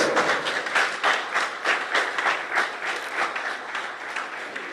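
An audience at an essay competition prize-giving ceremony gives a round of applause for the Minister of Education, a steady wash of many hands clapping with rhythmic swells, moderately loud and unbroken.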